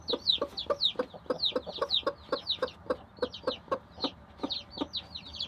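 A mother hen clucks steadily beside her chick, repeated soft clucks in a quick rhythm interleaved with the chick's high peeping, close and clear with no talk.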